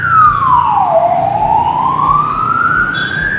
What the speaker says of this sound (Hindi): एम्बुलेंस आ गई